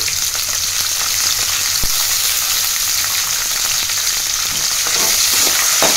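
Mustard seeds, cumin and green chilies frying in hot oil in a pan: a dense, loud continuous sizzle with scattered crackles and occasional stirring scrapes, with no voices.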